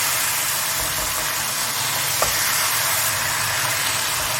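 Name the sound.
fried okra and chicken being sautéed in a pan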